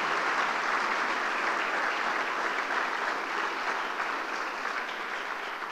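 Steady, dense applause from an audience at the Palacio de Canedo 2021 award ceremony, continuous and even throughout, without pauses.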